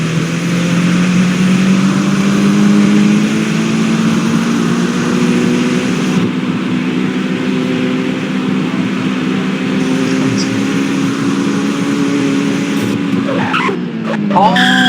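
A video-game car is pushed to full speed on a long drive, its engine droning steadily and climbing in pitch, loud throughout with a brief change near the end as control slips, under talk.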